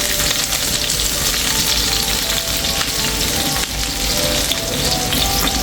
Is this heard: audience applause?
no